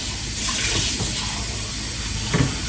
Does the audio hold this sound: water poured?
yes